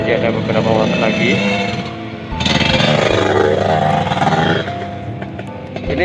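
Motorcycles ride a slippery, extreme forest road, their engines droning steadily and rising and falling in pitch, loud and close, with a voice talking over the engine noise.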